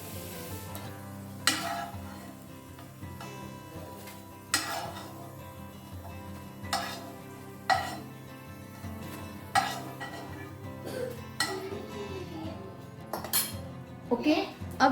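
Fried potatoes get scraped and lifted from a pan onto a plate, with several sharp metallic clinks and knocks of a utensil against cookware over a faint sizzle.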